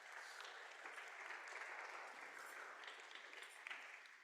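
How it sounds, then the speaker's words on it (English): Steady applause from a concert audience at St. Mark's, a dense wash of clapping hands that holds evenly throughout with no break. "Big applause for this."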